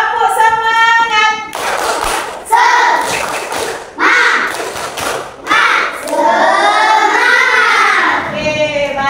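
A school class performs a rhythmic clapping chant, children's voices shouting in unison between loud, sharp group claps and thumps, close and energetic.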